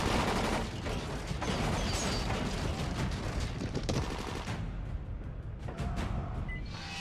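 Rapid, dense gunfire from Dying Light, a string of sharp shots packed close together at a steady loud level that thins out briefly near the end.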